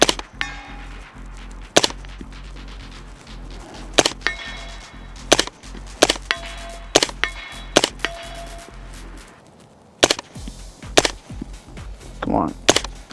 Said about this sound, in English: Let's do a little shooting here.